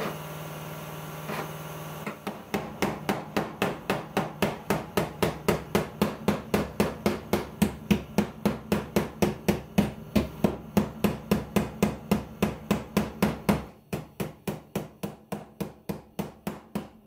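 Sheet metal is hammered over inside the wing of an Audi 200 Quattro, a long run of steady, evenly spaced metallic blows, close and loud, with a brief pause before the rhythm resumes.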